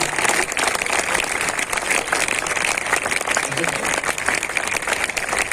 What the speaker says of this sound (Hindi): जब तक अपनी सीट पर नहीं बैठते, जोरदार तालियां बजती रहनी चाहिए